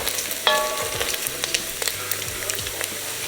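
Bacon sizzles and crackles in a pan with a steady fizzing bed, interrupted by a few sharp pops and soft scraping stirs; close and moderately loud, with no talking.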